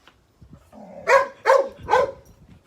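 A dog at an outdoor barbecue gives three loud barks in quick succession, preceded by a low grumble, with no talking over it.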